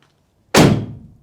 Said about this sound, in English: Is the door going to close?